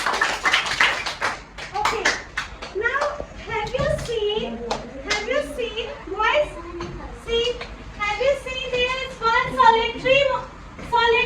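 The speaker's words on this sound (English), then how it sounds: "Clap for yourself, boys" Boys in a classroom clap for themselves during a science lesson on molecules, a short burst of clapping at the start under a busy mix of children's chatter and voices.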